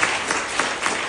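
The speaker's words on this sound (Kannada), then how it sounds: "ಅವ್ರಿಗೊಂದು ಚಪ್ಪಾಳೆ ಹೊಡೆಯೋಣ ಈಗ" Audience applause at a World Blood Donor Day 2025 event: a short burst of steady clapping from a crowd, dense and fairly loud throughout with no talk.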